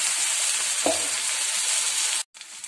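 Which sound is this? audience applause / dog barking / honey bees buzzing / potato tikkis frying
potato tikkis frying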